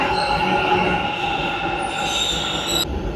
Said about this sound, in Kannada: ಮೆಟ್ರೋ ಹೋಯ್ತು ಅವ್ರ ಡೋರ್ ಕ್ಲೋಸ್ ಆದರೆ ಓಪನ್ ಆಗಲ್ಲ